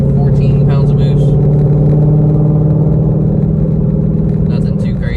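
A Whipple-supercharged Ford Mustang street car running around 13 to 14 pounds of boost idles steadily with a deep, continuous near rumble, and a voice talks over it throughout.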